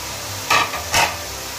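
Spices dropped into a pan of chicken keema, making two short scraping, sizzling bursts of stirring over a low steady frying hiss.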